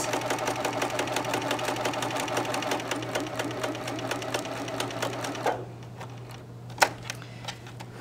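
A sewing machine runs a long basting row along a 5/8 inch seam guide on the stitch plate, a steady rapid whir for about five seconds before stopping, followed by a few faint clicks and handling sounds.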